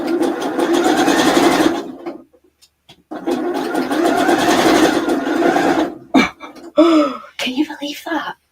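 A sewing machine stitching in two long motor runs with a short pause between, then a few brief bursts, with a person talking near the end.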